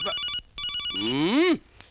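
Close and loud, a mobile phone ringtone sounds twice in a classroom, with short tonal bursts split by a brief gap, followed by a rising and falling warbling melody that cuts off abruptly.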